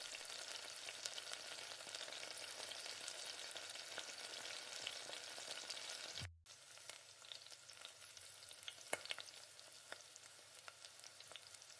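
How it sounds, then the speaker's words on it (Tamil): Thick paneer masala gravy bubbling in a pan, a dense, steady sizzling hiss with faint spoon taps, briefly cutting out midway before resuming at a slightly lower level. "இப்போ நல்லா கொதிஞ்சு வருது."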